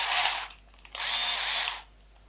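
A power drill driving M3 6mm screws into holes on a gel blaster battle mech build whirs loudly in two close bursts, the first short, the second longer before it cuts off.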